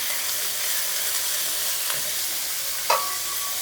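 Capsicum and onions sizzle and stir-fry in a hot pan for chicken Manchurian, a steady dense hiss throughout with a brief utensil clink late on.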